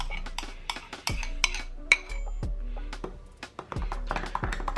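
Beaten egg stirred into frothy yeast in a bowl while making hot dog buns, with clinks and taps of a utensil against the bowl and a few sharp metallic knocks, close and fairly quiet.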